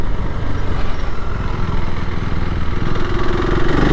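KTM 390 Adventure R motorcycle engine lugging in third gear at low revs, a steady close, loud single-cylinder thrum with a rising note toward the end, no talking.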